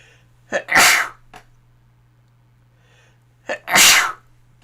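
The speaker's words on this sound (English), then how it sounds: "I'm going to sneeze again" Two loud sneezes, each with a short sharp intake before it, separated by a few seconds of near silence with a low steady hum.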